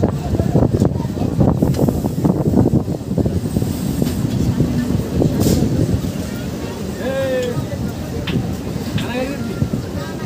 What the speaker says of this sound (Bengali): আমাদের ট্রেন এসে পৌঁছালো বঙ্কিমনগর হল্ট স্টেশনে